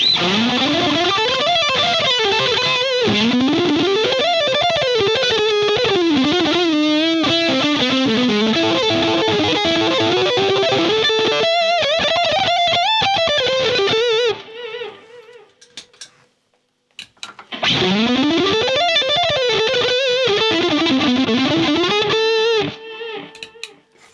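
Electric guitar through a DOD Overdrive Preamp 250 pedal plays fast, fluid distorted lead runs and bends, loud and sustained, briefly dropping to near-silence before another overdriven phrase kicks in.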